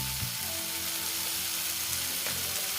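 Spices sizzle and crackle steadily in a hot pan as cumin powder is added while cooking ghugni, a close, continuous frying hiss.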